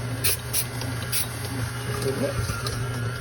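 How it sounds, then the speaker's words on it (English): A few short hissing bursts of cooking spray onto a baking pan near the start over a steady low hum. "What we're going to do is spray this pan."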